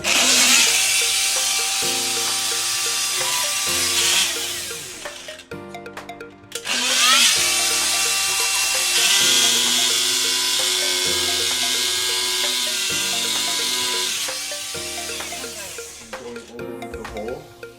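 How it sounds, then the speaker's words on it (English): A high-pitched rotary tool whines steadily as it cuts drywall, pausing briefly about a third of the way through before starting up again, loud and close. "then using drywall rotary tool."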